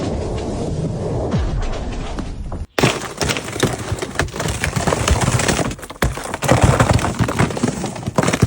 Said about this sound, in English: Listen to the sound of Lake Baikal.